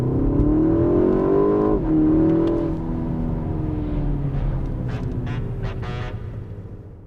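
BMW M135 hot hatch with a four-cylinder engine revving hard, a strained, buzzy engine note climbing, dropping at a gear change around two seconds, then pulling on again, loud and close throughout.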